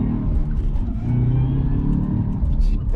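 Cadillac CTS-V accelerating hard with wheelspin, a loud, close engine roar and low rumble that swells over three seconds.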